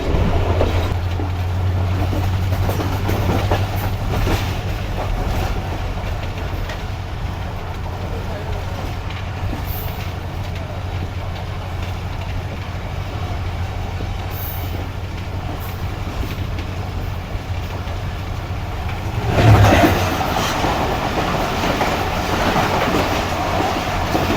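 An express train with ten coaches, running between Haveli and Karachi on Pakistan's railway, rumbles past steadily and loudly for a long stretch. A brief louder burst comes near the end.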